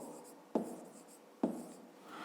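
A pen scratches across paper while a maths exercise is worked out, two short, distinct writing strokes in quiet surroundings.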